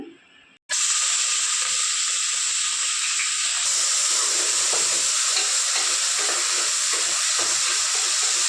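Oil heating in a pressure cooker for an eggplant and mutton curry: after a brief quiet start, a loud, dense, continuous hissing sizzle bursts in and holds steady to the end.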